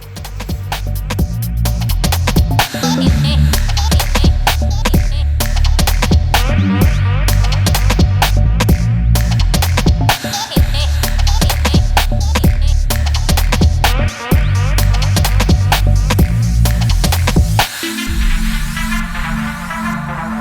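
Welding a temperature sensor bung onto a Volvo 950 project part produces a loud, crackling, buzzing arc with steady static and several short pauses between welding runs.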